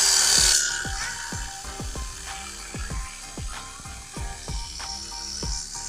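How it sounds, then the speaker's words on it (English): Power drill boring oiled holes while building a sliding gate, heard as a run of sharp, evenly spaced ratcheting clicks and knocks, close and fairly loud, with a brief hiss at the start. "I'm using the oil in order to get these imprints bored faster, drilled faster."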